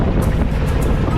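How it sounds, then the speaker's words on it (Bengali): A trawler boat sets off from Bholaganj toward the white-stone area near the Indian border in Sylhet, its engine rumbling loud and close with rushing water and wind buffeting the microphone. "ট্রলার আমাদের ভোলাগঞ্জ থেকে যাত্রা শুরু করেছে।"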